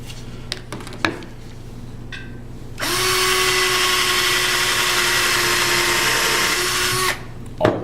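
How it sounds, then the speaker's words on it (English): A power drill whines steadily for several seconds at close range, drilling through wood, bracketed by a few clicks and knocks before and after. "I'm going to drill a hole from the front"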